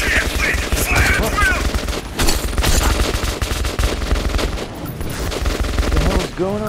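Rapid gunfire in the video game Metro 2033 Redux, with dense bursts of automatic shots and a sustained loud fusillade lasting several seconds, while people shout briefly over the shooting.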